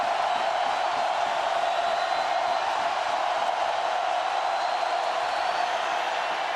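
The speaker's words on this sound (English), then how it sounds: "Crowd trying to help the LSU defense." Stadium crowd at Tiger Stadium in Baton Rouge during an Auburn versus LSU college football game in 2017, a dense, steady roar from a distant mass of fans with no individual voices standing out.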